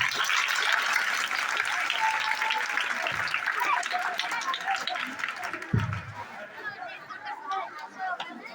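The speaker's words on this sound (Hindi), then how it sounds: "जोरदार तालियां।" Applause and chatter from an audience at a school Mathematics Day event fill the room steadily, with clapping mixed into crowd babble that fades toward the end.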